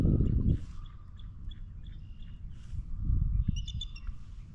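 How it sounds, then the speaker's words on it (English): A bald eagle gives a series of short, high chirping calls over Mattawoman Creek, fairly faint and distant above a steady low rumble of wind or a boat motor. "Yep, that's an eagle."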